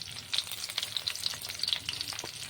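Okra (ladies finger) sizzles and crackles while frying in a little oil, a soft continuous hiss at close range broken by scattered sharp pops and spits.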